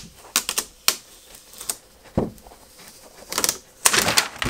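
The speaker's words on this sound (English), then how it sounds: "now I'm just going to gently peel this off" Vinyl cup wrap for a 16 oz. cup being peeled off its backing, heard as a series of close, crisp crackling and tearing bursts with short pauses between them.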